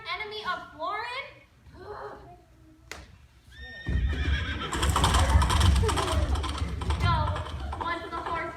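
A horse whinnies and hooves clip-clop as it gallops off, the loud hoofbeats and neighing rising after several seconds of people talking.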